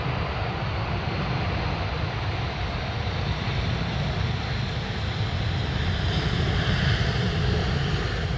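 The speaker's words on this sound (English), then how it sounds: "This is an Airbus" British Airways Airbus A380 arriving at Amsterdam Schiphol on the Polderbaan runway, a continuous, fairly close low engine rumble and roar holding steady and swelling slightly near the end, with no voices.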